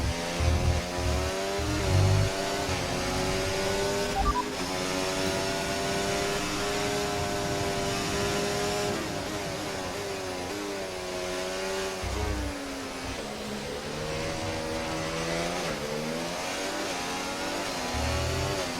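F1 race car engine in F1 2024 on the Canadian GP circuit at Montreal, driven as Oscar Piastri's McLaren, howls at high revs with rising and falling pitch through gear changes, steady and close with no talking.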